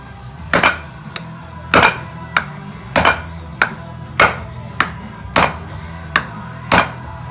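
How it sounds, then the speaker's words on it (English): Heavy blows from a big hammer ring out on metal, about a dozen sharp clanging strikes at a steady, slightly uneven pace, close and loud with no talking, while installing rear shock linkage bearings on a Honda 400EX. "we're gonna hit it with this big hammer"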